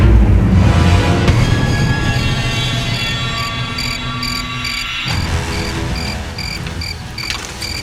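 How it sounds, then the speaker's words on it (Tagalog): Crickets chirp loudly and steadily at night, a dense unbroken trill running close by with no voices over it. "Ang ingay na mga kuliglig sa paligid."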